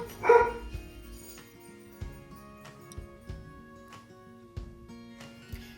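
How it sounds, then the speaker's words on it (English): One sharp dog bark, followed by quieter scattered sounds with faint background hum. "those are my dogs. You can hear them."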